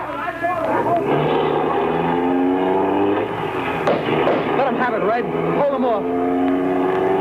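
Getaway car engine speeding in a radio drama, a steady loud motor drone running the whole time under tense overlapping dialogue from several voices.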